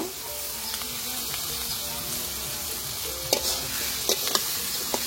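Potatoes sautéing in spice paste in a pan for a river fish curry with potato, a steady close sizzle with intermittent scraping stirs and a few sharp clinks of the spatula, no talking.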